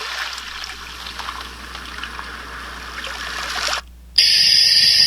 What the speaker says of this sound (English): Next, little river right there.